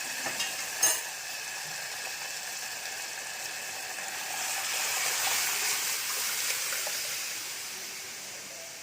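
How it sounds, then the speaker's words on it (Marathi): Soft, steady sizzle and bubbling as cooked toor dal hits a hot pan, with a small clink near the start and the hiss swelling slightly midway. "आता आपण त्याच्यामध्ये शिजवलेली डाळ टाकून घेऊ"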